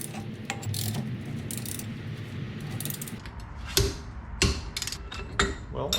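Torque wrench tightening the rear brake drum nut on a 1971 VW Super Beetle, giving rapid ratcheting clicks followed by a few heavier clunks and metallic knocks nearby.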